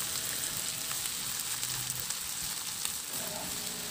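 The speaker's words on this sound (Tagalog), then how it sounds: "Ituloy lang ang paghalo hanggang sa maganda na ang pagkasangkot siya o pagkagisa natin sa ating pork" Pork ribs sauté and sizzle steadily in a hot pan, a continuous close frying hiss with faint stirring scrapes and no talking.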